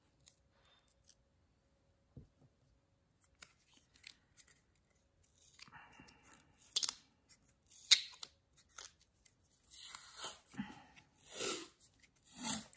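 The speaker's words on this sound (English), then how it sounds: "We're going to use the white bookbinding tape." White bookbinding tape is handled and pressed onto a notebook spine: quiet at first, then a close series of crinkly rustles, sticky peeling crackles and soft taps that grow busier and louder toward the end.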